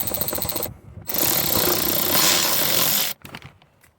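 A ratchet wrench backs out a 14 mm seat belt bolt inside a Lexus IS F during a racing seat install, giving a loud, steady burst of close mechanical clicking that runs for about two seconds before stopping.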